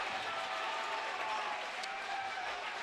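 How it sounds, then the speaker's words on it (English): Crowd applauding in a gym at a high school volleyball match between St. Henry and Marion Local, a steady dense wash of clapping and cheering that fills the whole moment with no pauses. "Pretty good crowd here, as you see in the background."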